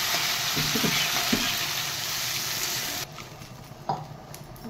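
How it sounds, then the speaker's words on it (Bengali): Water poured into a pan of sizzling masala for a singi fish curry with cauliflower, a loud steady frying hiss that suddenly drops and softens partway through, followed by a few light clinks and stirring sounds. "এবারে আমি জল ঢেলে দেবো।"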